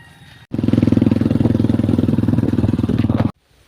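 A motorcycle engine runs steadily for about three seconds, a loud close throbbing idle with a rapid pulsing beat, starting abruptly and cutting off, set on a farm where piglets are kept.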